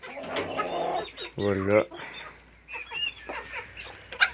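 Bantam and Favrol chickens cluck nearby, with one drawn-out squawking call and scattered softer clucks, while a person speaks briefly over them.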